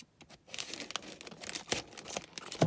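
A mailed parcel being opened close by: paper crinkles and rustles in irregular bursts, then rips in quick tearing strokes, ending with a sharper crunch.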